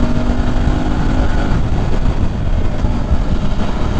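A 2020 BMW F 850 GS Adventure motorcycle ridden around Long Beach: a loud, steady engine drone mixed with wind rush, holding a constant level with no voices.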